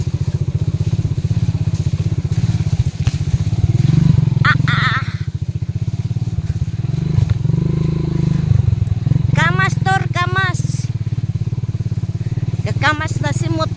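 A motorcycle rides along a muddy farm-to-market road, its engine droning steadily and close with occasional revs, while a person talks over it in places.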